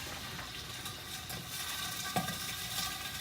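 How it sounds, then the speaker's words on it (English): Peppers sizzle steadily in a hot pan, a continuous crackling hiss with occasional stirring clinks. "You hear it sizzling?"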